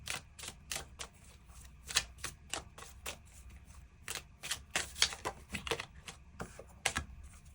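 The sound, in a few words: shuffling tarot cards to draw an extra card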